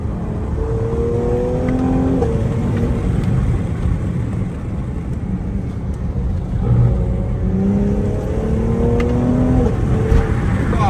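A Cadillac CT5-V engine in a video game hums continuously at close range, with repeated rising and falling revs as gears shift, steady and loud throughout.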